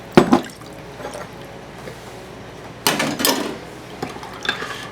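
A spoon stirs sugar and orange liqueur syrup in a bowl, with two bursts of clinking and sloshing against the dish separated by a quiet pause.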